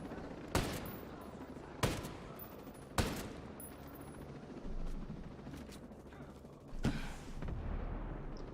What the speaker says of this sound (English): Deploying healing rockets.